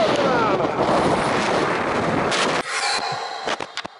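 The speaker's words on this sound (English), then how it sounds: "that was the windiest conditions I have ever, ever been out in a camera with" Strong wind buffeting a microphone on the exposed top of Mam Tor in the Peak District, loud roaring gusts that drop off abruptly partway through, leaving a few scattered thumps and rustles.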